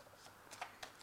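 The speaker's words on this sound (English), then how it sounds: "So I have shuffled this deck." A tarot card deck is handled and shuffled, producing faint, quick papery riffles and soft clicks in a few short bursts, close and quiet with no talk.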